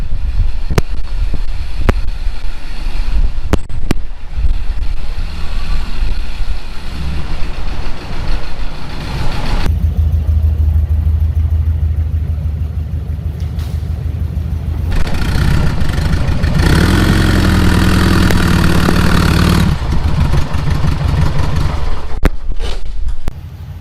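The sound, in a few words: 1600cc VW Bug engine running on a Dynojet dyno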